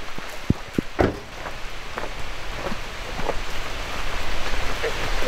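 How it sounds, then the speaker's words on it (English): Rain falls outdoors beside a fish pond as a steady patter that thickens toward the end, broken early by a few sharp nearby knocks, with no talk over it. "It's really starting to rain out here, isn't it?"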